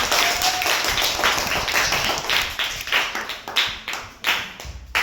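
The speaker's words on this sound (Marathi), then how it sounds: "चला टाळ्या टाळ्या वाजवा एकदा त्यांच्यासाठी." A class-six schoolroom claps for fellow students, a burst of uneven hand claps from many children close by, building then thinning into scattered taps.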